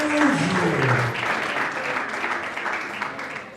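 An audience at a Congolese music concert claps steadily for several seconds, a dense, continuous round of applause that slowly tapers off.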